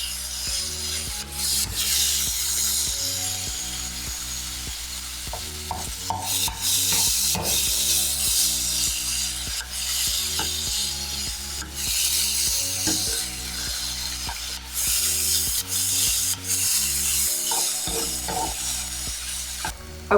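Turkey mince stirred and frying in a hot pan, a steady low sizzle with repeated scraping and stirring strokes throughout, close and continuous, no voices.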